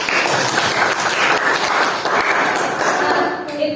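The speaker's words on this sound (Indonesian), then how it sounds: "Berikan tepuk tangan untuk Barik." Classroom applause for a student after a lesson on negotiation texts: dense, steady clapping from many hands filling the room, fairly loud throughout with a faint voice underneath.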